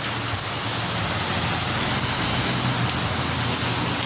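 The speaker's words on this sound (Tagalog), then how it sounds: "Grabe ng ulan, kusog." Heavy rain pours down in a dense, steady hiss of broadband noise, loud and unbroken throughout, with a faint low rumble underneath.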